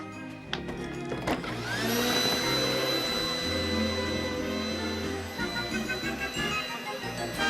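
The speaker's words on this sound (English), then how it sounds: "The radar eyes are always on the lookout for any obstacles, so the vacuum cleaner shouldn't break or suck up anything it's not supposed to" A robot vacuum cleaner runs steadily, its motor whirring with a rising tonal whine after the first couple of seconds, set against a busy background of music-like tones.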